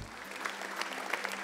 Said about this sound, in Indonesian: Kasih tepuk tangan untuk mereka.